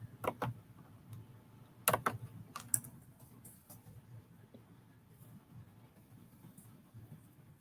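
Quiet typing on a computer keyboard, a few scattered bursts of clicking keys followed by softer, sparse taps against a low background.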